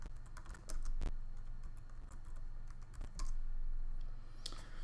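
Computer keyboard typing, a series of quick, close, irregular key clicks with occasional louder strikes, over a low steady hum and no voices.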